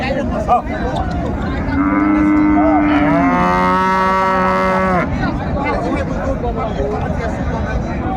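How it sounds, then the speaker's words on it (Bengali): A dairy cow bellows a long, loud moo lasting a few seconds at a busy livestock market in Raniganj, Dinajpur, among other cattle, with a crowd talking around it. "গাভী বাছুর আমরা দেখছিলাম এখানে"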